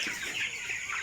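Young broiler chickens on a farm, about eighteen days old, clucking and peeping softly as a faint, continuous flock chatter lasting about a second.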